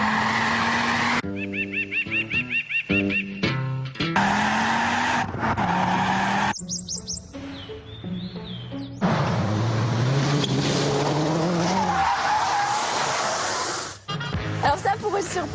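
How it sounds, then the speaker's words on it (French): A Ford Focus RS MK II with over 300 horsepower revs and squeals its tires through skids, engine notes rising and falling in bursts with loud tire screech, while people talk and shout over it. "Dans une Ford Focus de plus de 300 chevaux."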